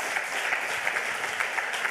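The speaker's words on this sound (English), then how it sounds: "Give the Rocket Badge team a huge round of applause." A huge round of audience applause for a team at a hacker conference lightning talk session, brisk dense clapping from a hall crowd, continuous and even for two seconds.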